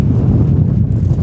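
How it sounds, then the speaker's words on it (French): Strong wind buffets the microphone outdoors, a dense, low rumbling roar that stays loud and steady throughout with no voices. "il y a toujours ce vent là horrible"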